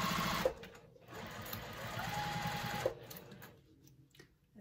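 A sewing machine stitches a tote bag, running in a steady buzzing burst for a few seconds, pausing briefly, then resuming more quietly, close and alone.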